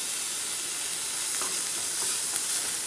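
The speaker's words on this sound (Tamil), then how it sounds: "வெங்காயம் கொஞ்சம் கலர் மாறுற வரைக்கும் நல்லா ஃப்ரை பண்ணி எடுத்துக்கோங்க" Onions with salt frying in a pan, a steady bright sizzle with occasional stirring scrapes, close and continuous throughout.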